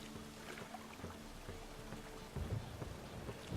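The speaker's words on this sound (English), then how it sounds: "Witches have conjured rain." Rain in The Witcher 3 patters quietly and steadily, with low rumbles and scattered drops, and a heavier burst near the end.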